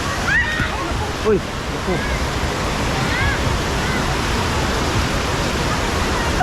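River water at Tala River Park rushes and splashes in a steady, loud, broadband wash, while people nearby exclaim and talk over it.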